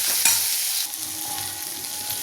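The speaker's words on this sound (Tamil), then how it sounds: "எல்லாத்தையும் ஒன்றா சேர்த்து கிண்டிடுவோம்" Fried okra and other ingredients for a buttermilk curry are stirred together in a sizzling pan, with a steady hiss of frying oil and scraping spoon strokes, loud and close, without any talk.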